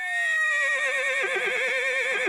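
A horse lets out a loud, drawn-out whinny that wavers and trembles as it falls in pitch, heard up close and alone.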